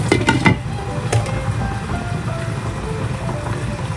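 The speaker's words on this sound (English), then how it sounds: "Now it's already boiling" A pot of tom yum soup broth bubbles and simmers at close range, with a soft steady sizzle and a few light knocks of a utensil against the pot near the start.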